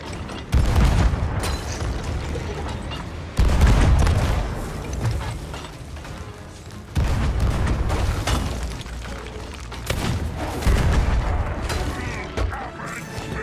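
Ship cannons fire in a pirate ship video game, with four heavy booms spaced a few seconds apart. Each blast leaves a rumbling, crackling tail.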